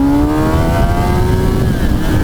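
A 2024 Kawasaki Ninja ZX-10R sport bike accelerates hard in first gear, its engine note climbing steadily in a loud, buzzing high-revving wail mixed with heavy wind rush, close and continuous.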